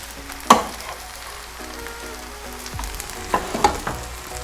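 Parboiled rice frying and being turned for fried rice, a soft steady sizzle broken by a few sharp clanks and scrapes of a spoon against the pan.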